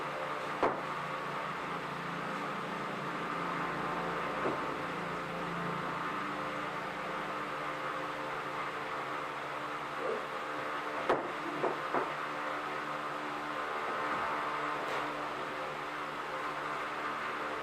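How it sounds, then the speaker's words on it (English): A big fan blowing at full speed indoors during a tufted headboard build, a steady broadband whoosh that runs throughout at low level, with a few faint knocks and handling noises. "I have a big fan going here."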